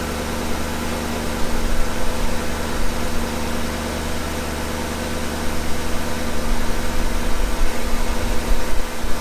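A Porsche Cayenne engine idles steadily at close range with a Mecarun P18 additive before an oil change, a constant droning rumble with a faint hiss and no breaks.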